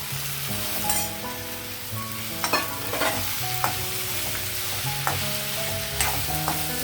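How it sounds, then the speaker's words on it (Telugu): Potatoes and beans sizzling in an oiled pan for a curry, stirred repeatedly with a spatula that scrapes and clacks every second or so over a steady frying hiss. "ఇందులో కలిసాయి బంగాళదుంపలు వేస్తున్నాను ఇప్పుడు బీన్స్ కూడా వేసేస్తున్నానండి"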